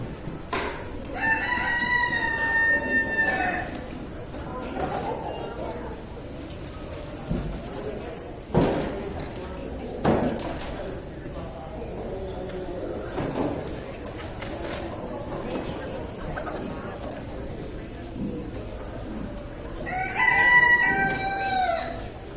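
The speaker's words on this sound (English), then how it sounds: "Got some wild chickens over there." Roosters crow at the start and again near the end at a county fair poultry show, with chickens clucking and occasional thumps and faint voices in between.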